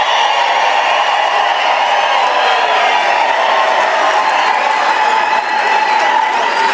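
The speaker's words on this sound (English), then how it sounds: "Can I please request ululations and a round of applause for His Excellency, President Mbeki." An audience greets a former South African president with loud, sustained applause mixed with crowd noise, and a high, wavering tone runs through it that fits ululation; the clapping stays full and even throughout.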